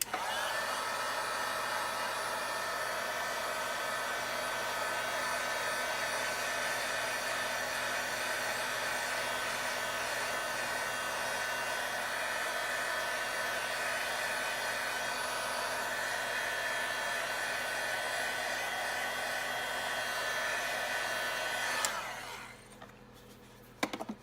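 A hair dryer blowing steadily on a handmade Christmas card, a loud continuous close whir that runs unbroken for about twenty-two seconds before switching off with a brief click.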